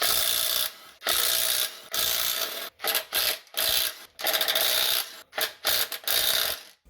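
Ratchet wrench undoing the eight flywheel bolts on a Land Rover Td5 Defender during a clutch replacement, close and loud, in repeated bursts of rapid clicking separated by short pauses.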